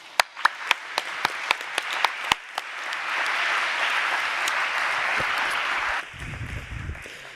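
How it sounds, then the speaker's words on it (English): Audience applause for the speakers at a European soil conference, opening with a few separate sharp claps before swelling into steady, dense clapping that cuts off abruptly near the end, leaving a low rumble. "I really think we should give these speakers one more applause."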